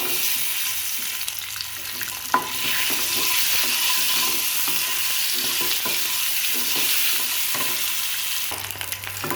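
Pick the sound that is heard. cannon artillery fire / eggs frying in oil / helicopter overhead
eggs frying in oil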